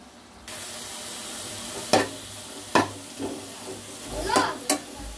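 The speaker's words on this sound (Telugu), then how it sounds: "కరెక్ట్గా ఒక ఫుల్ గరిట నూనె వేసుకోవాలి. ఇవి కూడా ఫ్రై చేసుకోవాలి." Ingredients frying in a ladleful of oil, with a continuous sizzle broken by several sharp crackling bursts as the food is stirred, close and moderately loud.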